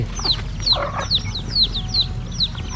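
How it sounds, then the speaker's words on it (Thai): Chickens cluck and chirp repeatedly at close range at feeding time on a farm, a busy overlapping chorus over a low background hum. "ก็จะมาให้อาหารไก่"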